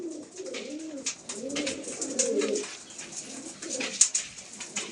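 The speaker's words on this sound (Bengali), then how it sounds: "তো এটা হচ্ছে মাদা পায়রা, দেখুন এর চোখ।" A Madrasi pigeon coos close by in repeated low rolling calls, with faint background hiss and a brief tap near the end.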